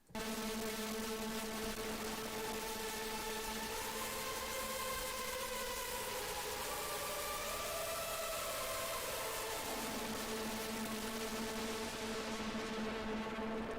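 A mono sawtooth synth with reverb feeding into distortion holds sustained, buzzy tones that shift pitch in a few steps, a bright gritty drone played alone at low level.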